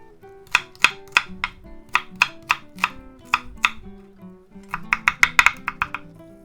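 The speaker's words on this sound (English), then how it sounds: "Then we'll chop 1 yellow onion." A knife chops a yellow onion on a cutting board, sharp close knocks in two quick bursts of strokes with a short pause between them.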